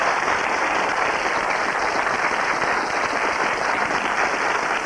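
A studio audience on a 1993 game show gives contestants Betty and Roy a steady, dense round of applause, loud and sustained throughout without a break.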